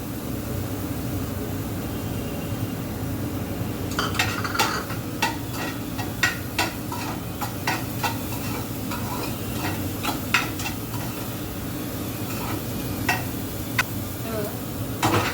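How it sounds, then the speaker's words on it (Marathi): Onion and carrots sautéing in a pan, a steady low sizzle with frequent sharp clicks and scrapes of a spoon stirring against the pan throughout. "सॉटे करून घेऊया छान."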